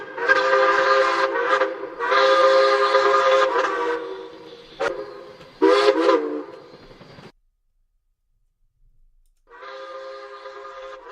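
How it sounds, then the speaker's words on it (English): Train horn in a train simulator game, a broken-sounding engine blasting loud, chord-like honks in several bursts of varying length, then a gap of near silence before one last blast, with no talk over it. "It sounds like a broken train, but I'll go with it."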